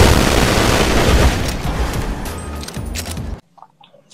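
Revolver in GTA 5 Online on PS5 fired in a rapid glitch burst, a dense loud string of gunshots with booming rumble for about three seconds, then sudden near-silence with a couple of faint clicks.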